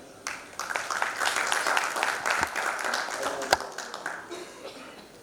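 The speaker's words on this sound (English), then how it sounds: "Can we have a huge round of applause for such an amazing presentation and right in time?" Audience applause breaking out after a cybersecurity presentation at a conference in Guwahati, a steady patter of many hands with a few sharper claps standing out, moderately loud and continuous for several seconds.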